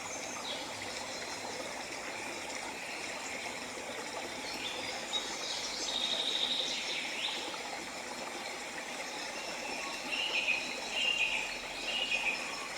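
Birds sing in a forest over a steady stream wash, with a few high, thin chirping phrases breaking through at moments, fairly faint against the constant flow of water.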